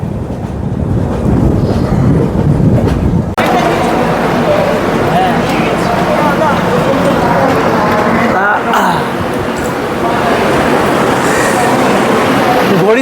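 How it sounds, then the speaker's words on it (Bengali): A Humsafar Express train rolls into New Jalpaiguri station, a loud, close rumble of wheels and buffeting wind heard from near the open door, with a voice talking over it. "আমাদের ট্রেন এনজিবি স্টেশন ঢুকছে"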